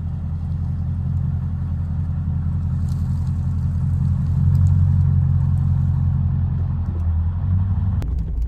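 Vehicles hauling two old trailers on a scrap run roll off with a loud, steady low engine rumble that swells slightly midway, followed by a brief sharp clank near the end.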